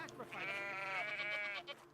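Sheep in the video game I Am Jesus Christ let out a single drawn-out bleat, fairly close and clear, lasting over a second against a quiet background.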